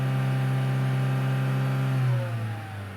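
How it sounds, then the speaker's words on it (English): Engine of a Chevrolet Cruze with codes P0171 and P0496 held at raised RPM, a steady loud hum with strong harmonics that drops off as the revs fall back toward idle near the end. "So right here, I increase the engine RPMs"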